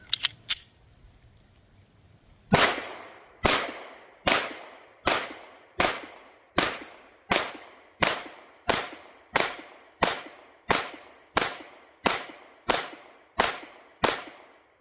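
Pistol shots from a Zev OZ9 Hypercomp or Glock 19 on a range: after a few quick clicks and a pause, fifteen loud, sharp reports fire at a steady, even pace of under one per second, each with a short ringing decay.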